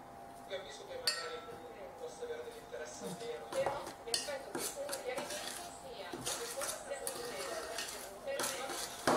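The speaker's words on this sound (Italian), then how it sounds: "nella base di biscotto metto il burro fuso e mescolo bene" Melted butter being stirred into a biscuit base in a bowl for a family cheesecake, giving irregular clinks and scrapes of a utensil against the bowl, moderately close, with background noise throughout.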